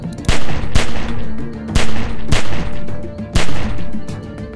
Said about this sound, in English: Just shoot at the window and keep that fucker's head down till I get where I'm going.